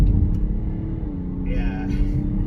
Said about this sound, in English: Okay, now I'm gonna floor it